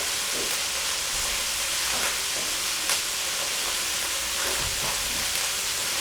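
Kale wilting in a hot pan gives off a steady, close hiss of sizzling with faint stirring clicks throughout, and no one speaks.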